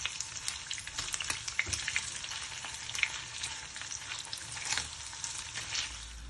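Vegetables for a paneer vegetable biryani fry lightly in a pan with a steady close-up sizzle, broken now and then by the scrape and clatter of stirring, and no talking.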